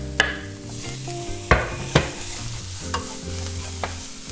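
Garlic goes into a frying pan of softened onions, giving a steady sizzle punctuated by several sharp clacks of a utensil against the pan.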